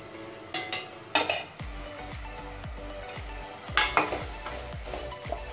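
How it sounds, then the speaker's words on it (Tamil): Onions and masala are stirred in a pan for a village-style Chettinad fish curry, a soft sizzle beneath a regular series of spoon scrapes and clinks against the metal, close and clear. "போட்டு நல்லா கிண்டி விட்டுருவேன்."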